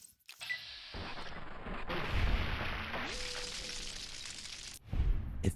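Rifle fire in the video game Fallout: New Vegas, a loud blast followed by a sustained rumbling burst and a second sharp report near the end, with no talk.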